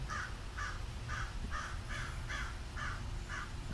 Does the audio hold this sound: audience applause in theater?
no